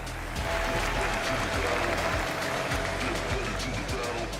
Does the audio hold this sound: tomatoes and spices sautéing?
no